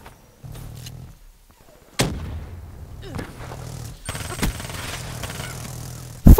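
Gunfire in Black Ops 3 aimed at a Wraith: a few sharp loud shots and bursts crack over a low rumbling game backdrop, ending in a heavy blast.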